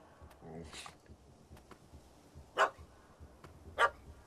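A dog in The Witcher 3 gives a few sharp, separate barks at moderate distance, with a quieter yip early on amid faint ambient game sound.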